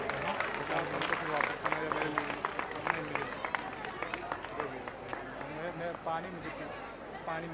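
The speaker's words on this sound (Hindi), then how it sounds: "तालियां हो जाए जोरदार बच्चों के लिए।" Loud, sustained applause and clapping from an audience cheering for children called onto a stage at a Durga Puja Samiti gathering in Korwa, with crowd babble and some voices mixed in throughout.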